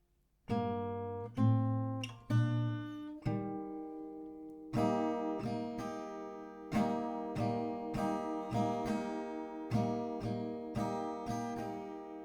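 Acoustic guitar strumming in separate strokes from a lesson on a song, a few slow spaced strums and then a steadier rhythmic pattern, moderately quiet, with no voices.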